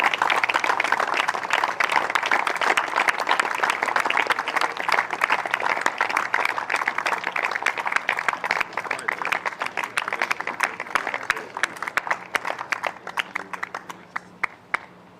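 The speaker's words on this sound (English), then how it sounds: "Can I ask the winning players, please, big applause, fuerte aplauso for Alfie Hewitt and Gordon Wren." Crowd applause fills a wheelchair tennis doubles trophy ceremony at the NEC Wheelchair Masters, a dense, steady clapping that runs loud throughout and thins slightly toward the end.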